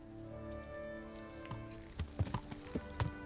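Horse hooves clip-clop in the video game Kingdom Come: Deliverance, a few light uneven steps heard over a steady background hum of game music.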